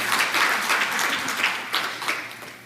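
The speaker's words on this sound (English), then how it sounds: "Let's give him a round of applause for his great job this morning." An audience applauds a panel moderator at a forum on equity and Black empowerment: dense clapping from many hands that swells in small bursts and then starts to fade, with no talking over it.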